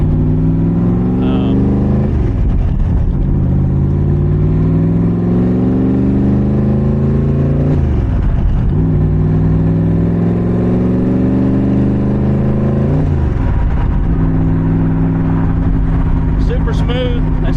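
Cobra car engine with a carburetor of about 835 CFM, running close and loud throughout: deep harmonic engine drone rising through repeated revs and gear-like climbs, each dipping back before climbing again, with no talk.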